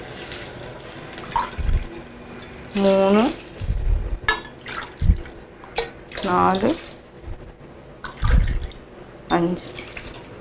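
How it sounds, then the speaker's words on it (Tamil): Water pours from a measuring cup into a pan in several short splashing bursts, with a voice counting between the pours. "இப்போ மெஷர்மெண்ட்டு 5 கப் தண்ணி ஊற்றலாம்."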